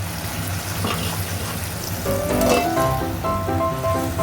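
Water poured into a hot pan of spices during village-style Bengali cooking, a loud continuous hiss and crackle of sizzling that swells midway as bubbling pops and clinks rise above it.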